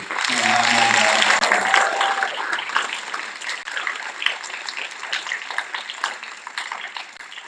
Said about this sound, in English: So give them a round of applause too.